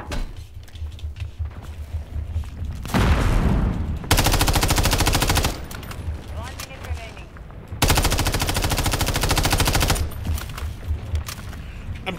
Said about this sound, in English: I'm kind of shooting because I've never really used this gun.